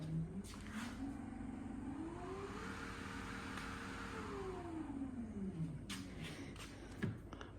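An electric trolling motor on a Lifetime Yukon kayak whines as it is throttled up, its pitch rising, holding steady, then falling away, with a constant close hum underneath.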